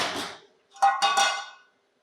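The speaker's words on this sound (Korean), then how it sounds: "4컵에 방금 물에 헹군 뼈 넣어주시고요" Rinsed bones dropped into a metal pot of water: a soft scrape, then a couple of close, bright metallic clunks and rattles as they settle, then silence.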